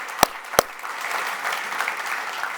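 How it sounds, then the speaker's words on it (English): Audience applause at a developer conference in San Francisco: two sharp, loud claps ring out first, then a dense, steady patter of clapping from a packed room continues at moderate volume. "Big round of applause to you all."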